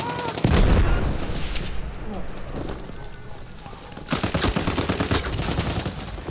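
Gunfire in Battlefield 1 on PC, with a heavy shot near the start followed by a rapid burst of repeated shots later, mixed with game ambience and someone talking.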